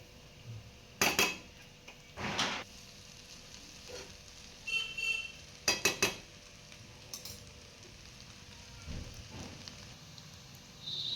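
Veg hakka noodles tossed in a pan over a high gas flame: a soft, constant sizzle under scattered clinks and scrapes of a utensil against the pan, in short separate bursts.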